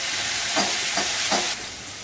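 Chopped onions and tomatoes sizzle steadily in a hot pan while being stirred, with three soft scraping strokes over the frying hiss before it drops slightly quieter.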